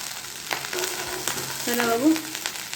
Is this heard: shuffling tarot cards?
no